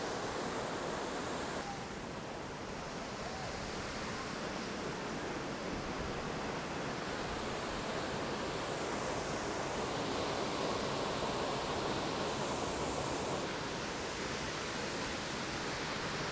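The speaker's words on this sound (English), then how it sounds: "This is Horsetail Falls, and it's 176 feet tall." Horsetail Falls, a 176-foot waterfall in Oregon, pouring with a constant broad hiss and rush of falling water, steady and enveloping with no other sounds.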